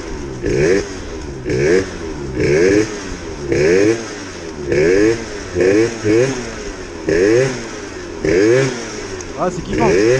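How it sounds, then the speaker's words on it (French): A Booster 70 DR scooter with a slightly rich idle jet, fitted with a red Malossi clutch spring, revs repeatedly, each burst of throttle climbing and falling in a steady cycle of loud, close engine wails with rattly idle between. "là il gueule le scooter"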